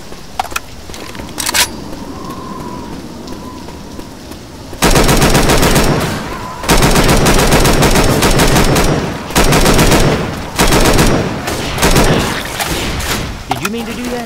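An IMI Galil ARM rifle fires in Left 4 Dead 2, loud sustained automatic bursts broken by short pauses, after a quieter stretch with a few isolated shots and faint background game sounds.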